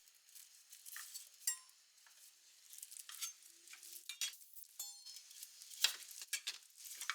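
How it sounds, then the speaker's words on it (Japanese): Cut pieces of deep-fried tofu (atsuage), wiped of oil, sizzle softly in a pan for a bento, with quiet scraping and occasional light clinks of utensils close by. "キッチンペーパーで油を拭いた厚揚げを切って焼きます"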